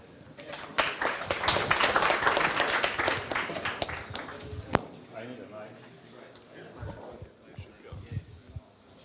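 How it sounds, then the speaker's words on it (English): Audience applause for a speaker at a tech conference talk, a dense burst of clapping from a hall crowd that swells for several seconds and then thins to scattered claps as a voice begins speaking over a quieter room. "Give him a round of applause."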